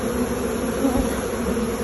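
Honey bees swarm around an opened hive frame on a backyard bee farm, a dense close buzzing drone that holds steady throughout, loud and unbroken with no talking.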